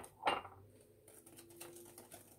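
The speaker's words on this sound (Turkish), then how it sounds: "İyice karıştıralım." Pancake batter of flour, baking powder and vanilla is stirred, starting with one sharp utensil clink followed by soft, faint scraping and swishing, with no talking.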